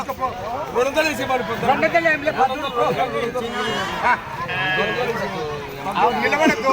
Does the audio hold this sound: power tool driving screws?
no